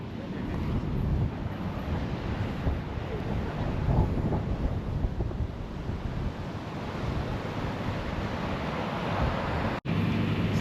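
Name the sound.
strong wind where Caribbean Sea meets Atlantic Ocean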